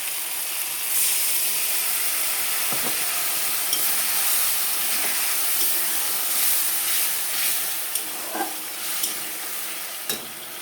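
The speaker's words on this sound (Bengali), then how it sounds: "মশলার বাটি ধুয়ে রাখা জলটা দিয়ে দেবো" Water hits a hot pan of cooking papaya curry and sets off a loud, steady hiss of sizzling and steam. A few faint clicks and scrapes sound under the hiss across the whole stretch.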